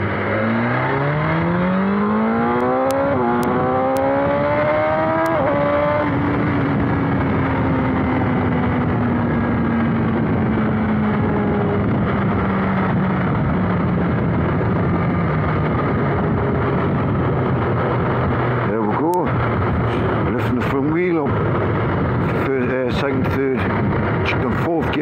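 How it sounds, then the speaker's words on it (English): A motorbike pulls hard in second gear from about 3000 rpm as if exiting a corner, the engine note climbing steadily in a loud, continuous roar with wind rush and a rider talking over it. "I'm going to simulate an acceleration test coming out of a corner."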